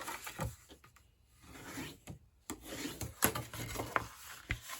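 Scored cardstock being folded and burnished for a cupcake box, close soft rubbing and rasping strokes in an uneven series with a few sharper taps, fairly quiet.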